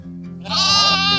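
A lamb bleats on a small Canadian sheep farm in early spring, one drawn-out, wavering cry rising after a quiet start and holding loud and close to the end.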